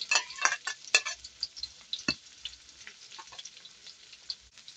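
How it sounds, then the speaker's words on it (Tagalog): Food sautés in a frying pan with a steady crackling sizzle, punctuated by a few sharp scraping stirs and clinks of a utensil early on, then settling into a softer continuous hiss. "magigisa na tayo"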